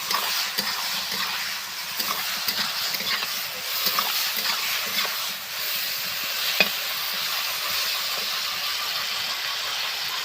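Food fries in a pan after turmeric is added and gets stirred. A constant close sizzle and hiss runs throughout, with occasional scrapes and taps from the spatula and no speech.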